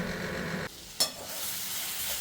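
Soft sizzling of eggplant frying in a pan, with a brief clink of a utensil partway through, then steady hissing.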